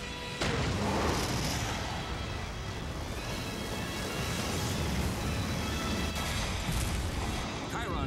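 A main gun fires in an animated space battle, a dense continuous roaring blast with booming rumble sustained throughout, with a sharp burst near the start and crackling bursts later, loud and close.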